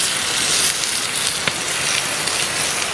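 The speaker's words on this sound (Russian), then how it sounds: "На костре, да. Но жарим мы почему-то мясо." Meat frying over a campfire on a fishing trip gives a loud, continuous crackling sizzle, close and steady, with scattered sharp pops and no talking.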